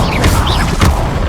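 An Incendio fire spell cast in the video game Hogwarts Legacy gives a loud, brief whooshing burst with a low boom, a second flare following close behind, all under dense game sound.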